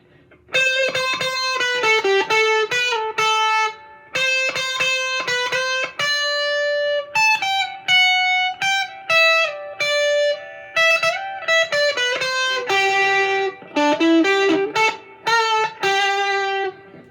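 Telecaster with a Bare Knuckle Boss bridge pickup played through a Ross distortion pedal, giving bursts of crunchy distorted chords and single notes in phrases separated by short pauses, alone with no talking.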